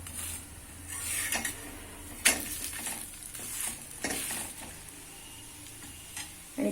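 A coriander paratha fries in extra oil on a pan with a soft, close sizzle. Light spatula taps and clicks break in now and then, and no one speaks.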